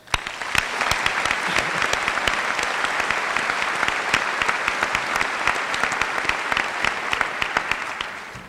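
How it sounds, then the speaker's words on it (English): Audience applause at a Chardon graduation ceremony, honoring the teachers; dense, steady clapping from a large crowd fills the whole stretch at even loudness, with no talk over it. "we should give all the teachers here and the ones not here a big round of applause"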